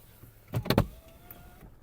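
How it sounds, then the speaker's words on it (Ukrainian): Power windows of a Volkswagen Golf hatchback running, a short close electric motor whir with a couple of brief surges, alone in a quiet car interior. "Склопідйомники працюють."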